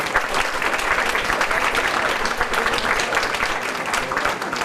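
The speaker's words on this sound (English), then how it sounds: "Let's give them another round of applause." Loud, dense applause from an audience for the models at a fashion show event, many hands clapping in an even, sustained roar from start to finish.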